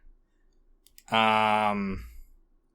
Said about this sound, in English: I'm clicking on the link right now.